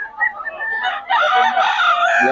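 Roosters and stag gamecocks in Bocaue crow loudly and close by, one long crow following another, with clucking mixed in.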